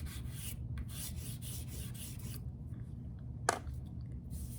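Chalk pastel dragged across paper while logs are sketched in medium brown, a soft, steady rasping rub repeated in short strokes, faint and close, with no voices.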